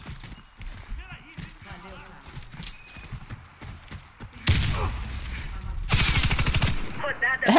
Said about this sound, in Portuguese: é muito tiro, velho